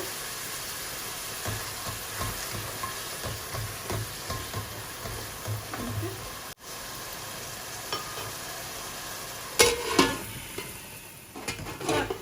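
Onions fry with a little salt in a pan as a steady sizzle runs throughout, with soft stirring scrapes and a louder clatter of utensil against pan near the end, with no talking.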